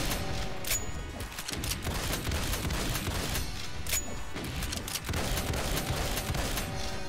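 Dense, continuous bursts of shotgun-style weapon fire from the scrap gun in Doom II's Paradise map, loud and nearly unbroken, with crashing impacts and explosions layered over the shooting.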